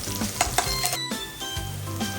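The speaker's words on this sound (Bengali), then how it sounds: "পেঁয়াজটিকে দিয়ে ভালোভাবে গোল্ডেন ব্রাউন করে ভেজে নেব" Chopped onions fry in hot oil until golden brown, a steady close sizzle with a few sharp stirring scrapes and clinks against the pan; no one speaks.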